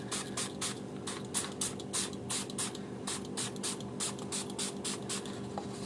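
Rapid bursts of a hand spray bottle misting water onto colored inks, about twenty short pumps in a steady rhythm, close and fairly loud with no talking.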